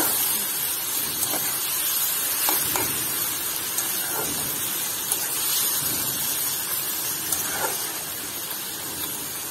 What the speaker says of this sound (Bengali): আর এই চিংড়ি মাছ আর পেঁয়াজটা আমি একটু ভালোভাবে একটু ভেজে নিব।